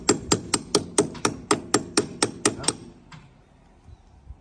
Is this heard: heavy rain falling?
no